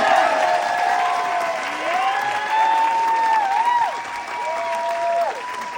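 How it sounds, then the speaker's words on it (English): Steady applause from a large audience at a Yale diploma ceremony for graduating seniors, dense and continuous throughout, with faint voices and a few tonal sounds drifting above the clapping. "Please, let's clap for them."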